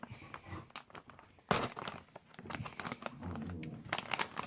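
A plastic bag is crinkled and pulled open up close, with irregular bursts of crackling and rustling and a sharp crunch partway through.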